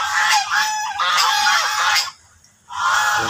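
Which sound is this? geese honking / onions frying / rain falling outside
geese honking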